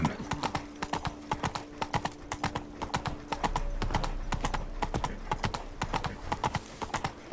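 Roach the horse gallops in The Witcher 3, sharp clip-clop hoofbeats in a fast, even rhythm throughout, over a faint sustained tone and low rumble in the game's background.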